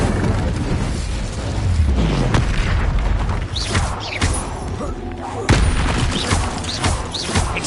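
Confringo blasting-curse explosions in Hogwarts Legacy on PS5, a string of booming thuds and sharp cracking blasts over a rumbling low bed, loud and close, a few seconds apart.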